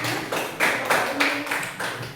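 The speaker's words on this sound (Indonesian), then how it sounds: "Tepuk tangan untuk teman-temannya semua." Schoolchildren in a classroom clap their hands together in a quick rhythmic pattern of about eight sharp, evenly spaced claps, close and clear with no talking.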